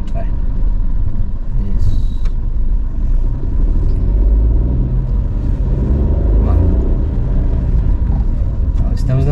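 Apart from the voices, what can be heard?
car engine starting and accelerating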